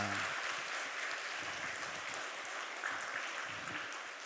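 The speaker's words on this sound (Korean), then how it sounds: "우리 힘차게 하나님 감동의 박수를" A church congregation at a Sunday service claps together in a steady, fairly soft burst of applause that carries on evenly from start to finish, with no voices above it.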